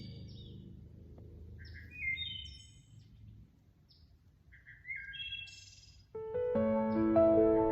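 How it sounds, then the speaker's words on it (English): Wild birds sing along the Appalachian Trail near Deer Lick Shelter, sending bright, separate chirps and whistled phrases over a faint outdoor hum, with a richer, louder song entering near the end. "Anybody know what that bird is?"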